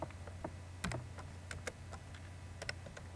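Scattered clicks of typing on a computer keyboard, quiet and close, with irregular keystrokes over a low steady hum.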